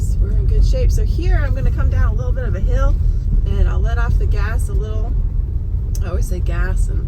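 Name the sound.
Tesla Model Y driving on snowy road, coasting downhill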